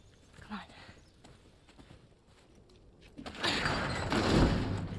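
Horse hooves clop along in a light, uneven rhythm in the game The Last of Us Part 1, then a louder burst of rustling, shuffling noise takes over near the end.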